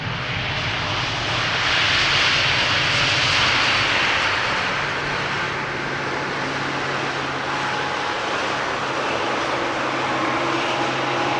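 Airliner on approach to Amsterdam Schiphol Airport, a broad, steady jet roar that swells slightly and then holds, loud and continuous, heard outdoors with no voices.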